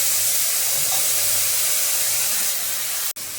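Water poured into a hot pan of cardamom, raisins and ground coriander for a fish dish bursts into a loud, steady steaming hiss that cuts off abruptly near the end, with no voices.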